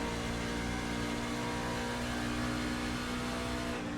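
A K5 NIS racing truck in the iRacing game runs at Homestead, its engine a steady, dense drone holding a constant high pitch throughout without letting up, with no voices.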